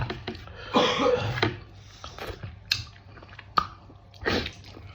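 Chewing on a mouthful of rice with light mutton curry, close and soft, with wet irregular bites and smacks spread over the stretch, plus a couple of sharper throat or mouth noises, and no talking.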